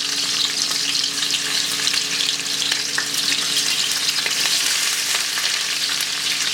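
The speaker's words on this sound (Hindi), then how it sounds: "इसमें आप डालेंगे 2 मीडियम साइज़ की फाइनली स्लाइस प्याज" Two medium onions, finely sliced, fry in half a cup of oil in a pot, giving a loud, constant sizzle with crackling pops and stirring scrapes throughout, no voices.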